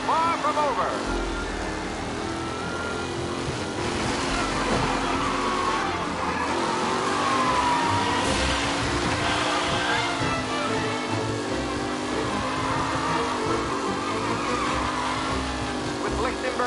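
Race car engines roar steadily in Mafia Definitive Edition, a close, continuous whine rising and falling through gear changes, with tire squeal and a commentator's voice running underneath.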